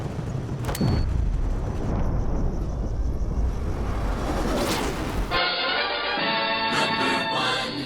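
A loud, sustained roaring explosion with a rumbling low end fills the scene in the video game Wolfenstein II: The New Colossus, then cuts abruptly to a bright, ringing synthetic tone.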